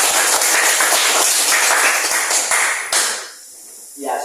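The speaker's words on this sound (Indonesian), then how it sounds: "Ya, tepuk tangan dulu." Classroom applause from students in a Christian religious education lesson, a steady run of quick overlapping claps that fades out near the end.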